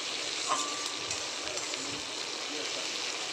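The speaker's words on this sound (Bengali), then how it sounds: "ওই তেলের মধ্যেই আমি তিন চারটে পেঁয়াজ লাল লাল করে দিয়েছি সেগুলোকে ভাজা ভাজা করে ভেজে নেব" A few onions fry in hot oil in a wok, giving a steady, quiet sizzle that runs unbroken and close by.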